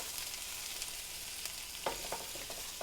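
Onions and garlic sauté in a pan as a sauce base for seared scallops, making a soft, even sizzle with a few quick stirring clicks toward the end.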